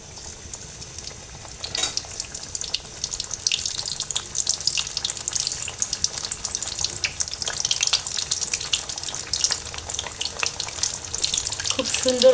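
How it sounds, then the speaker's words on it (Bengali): Alu sooji puri frying in hot oil over medium heat, a steady close bubbling sizzle that holds and grows slightly louder throughout, with no voices. "তেলটা গরম হয়ে আসছে, আমি এই পর্যায়ে পুরি দিয়ে দেব।"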